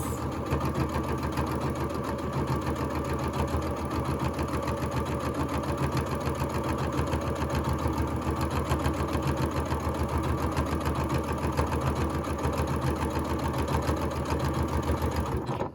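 A sewing machine fitted with a quilt binder attachment runs continuously at a steady moderate pace, a close, even mechanical whir and rapid needle chatter with no pauses or voices.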